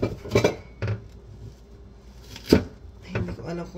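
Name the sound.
chopping onion with a dull kitchen knife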